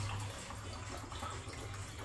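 Steady stream of water filling a glass for cooking sweet pongal rice, a continuous close splashing pour with a low hum underneath.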